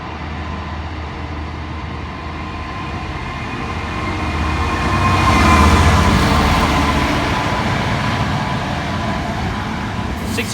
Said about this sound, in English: about to come through now is a freight train